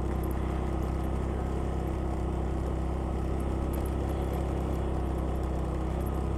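A motorcycle engine held at full throttle while climbing a steep road up toward the Kelud volcano crater, producing a steady, loud, continuous drone with constant rumble and no let-up.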